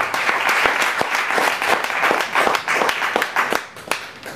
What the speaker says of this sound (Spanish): Fuerte ese aplauso para el sonidista que está en esa ventanita.